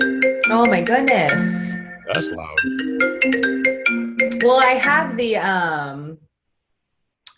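A FaceTime call ringtone sounds on a Mac, a loud repeating melodic chime that overlaps a person speaking before cutting off near the end.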